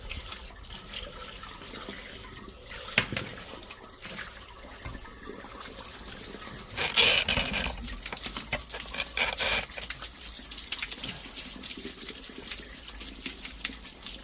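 Steady running water trickles and splashes into a blocked drain, continuous and fairly close, with a brief louder gush partway through.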